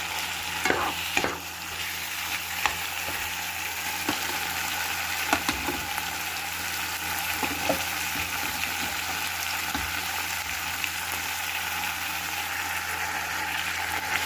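Marks & Spencer chicken fries in a pan with a steady, close hiss and sizzle. Occasional clicks and scrapes from stirring break through, and no one speaks.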